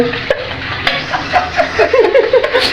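Half-boiled meat and green chilies cook in a pot with loud, close sizzling, while a spoon stirs and scrapes against the metal in an uneven rhythm.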